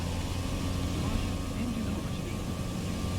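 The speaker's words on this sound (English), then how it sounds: "Engine over speed." Simulated engine of an Aviat Husky A-1C floatplane in Microsoft Flight Simulator 2020 at full throttle, a steady, loud, unbroken drone with a low hum that lasts the whole time.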